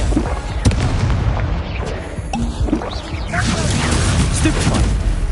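A Confringo fire spell bursts in Hogwarts Legacy: loud booming impacts and crackling blasts amid continuous combat noise, with sharp hits scattered across the few seconds.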